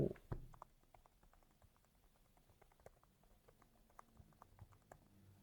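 Quiet, soft-touch membrane gaming keyboard with a gasket-style build being typed on: faint, rapid, muffled key taps in an irregular patter, close and soft, with no voices.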